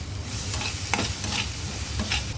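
Turmeric and salt being stirred in a frying pan for eggplant bharit, a steady scraping stir over a soft continuous sizzle with a few louder scrapes, close and alone without talk.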